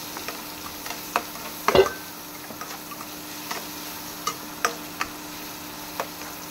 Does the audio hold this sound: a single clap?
no